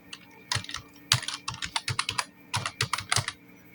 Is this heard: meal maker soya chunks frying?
no